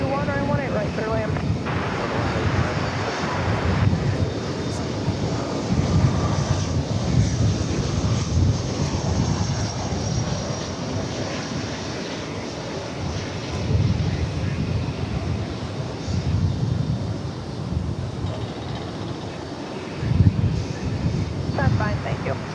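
An American Airlines airliner lands at DFW Airport, its steady broadband roar carried with wind buffeting the microphone, while a voice and air traffic control radio talk over it throughout.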